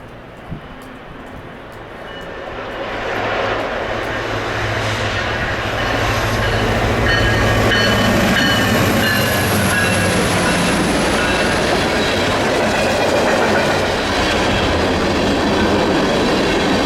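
Freight train B10, pulled by a single locomotive, rolls past close by. Its steady loud rumble grows over the first few seconds and then holds, with wheel squeal and clickety-clack from the cars.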